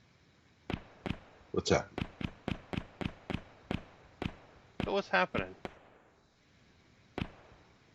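Explosions in a coded animation make a quick run of about a dozen sharp, firework-like pops, some coming in clustered bursts, with a short gap before one last pop. A voice speaks briefly over them.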